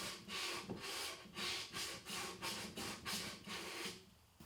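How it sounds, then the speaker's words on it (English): Handsaw cutting a wooden board for a shoe bench, a steady rhythm of about nine close, raspy push-and-pull strokes with no voices. "handsaw time"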